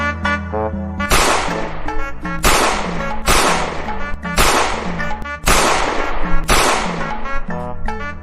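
Six sharp gunshots fired in a comedy sketch go off in a quick, evenly spaced string. Each is loud, close and cracking, with a short ringing tail.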